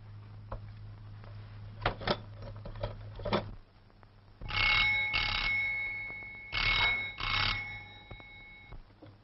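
A telephone rings in repeated electronic bursts, with fainter clicks and handling noises before the rings start.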